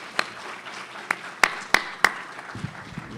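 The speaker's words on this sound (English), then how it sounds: "Another round of applause for our panelists." Scattered claps from an audience applauding panelists at a college food security summit, a handful of sharp separate hand claps over a thin bed of clapping, fading out at the end.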